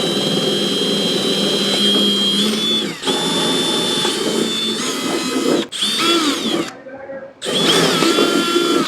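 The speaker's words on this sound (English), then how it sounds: "I gotta drill some holes." A power drill bores holes in a carbon fiber car body part, whining loudly and steadily in several long bursts with brief pauses and a high motor tone that shifts pitch as it cuts.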